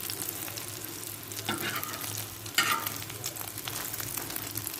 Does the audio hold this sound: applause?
no